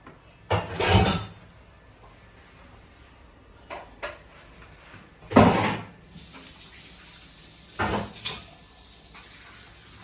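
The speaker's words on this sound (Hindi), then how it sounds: "किचन में बर्तन हो रहे हैं मेरे साफ़" Clattering of dishes and utensils with occasional bumps and scrapes, in a few separate bursts over quiet kitchen background.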